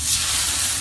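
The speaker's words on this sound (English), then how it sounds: "I love the sound of the sizzle." Steak sizzles on a grill, a steady loud hiss of fat and juices crackling close up with no voices.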